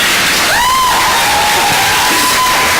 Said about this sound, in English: So please give a big round of applause to Simon.